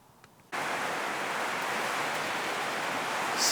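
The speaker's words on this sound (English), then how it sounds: "apologies for the rain" Steady rain starting abruptly after a quiet moment, a dense, even hiss that continues unbroken and fairly close throughout.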